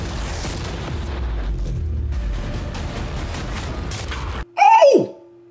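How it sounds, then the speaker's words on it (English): A deep, loud cannon boom bursts out after steady background noise, a single heavy blast fired at a yacht, then quickly fades. "Sean, we're about to fire the cannons at your new yacht."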